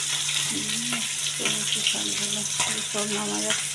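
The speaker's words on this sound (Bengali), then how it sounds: "মাছ ভাজতেছি, মাছ ভাজি যাচ্ছি।" Fish frying in hot oil alongside green chilies, garlic and onion, a constant sizzle with stirring and clattering under a voice talking nearby.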